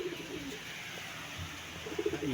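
Pigeons bred for racing coo softly and repeatedly in a sunny loft, the low murmuring calls swelling near the end with no talk over them.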